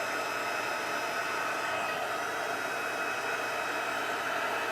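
Embossing heat gun blowing a steady, even hot-air roar while melting embossing powder, continuous and fairly loud throughout with no breaks.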